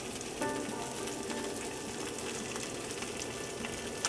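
Steady, loud sizzling of a whole crappie pan-searing over a wood stove, a dense crackling hiss that continues without pause.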